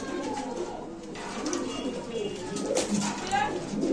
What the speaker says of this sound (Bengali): তো এখানে আছে এক জোড়া মুন্ডিয়ান কবুতর ব্ল্যাক